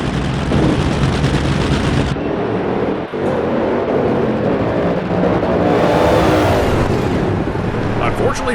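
NHRA dragster engines in a video game roar and rev loudly and continuously, with sharp bursts and a brief dip midway, the sound shifting in pitch toward the end.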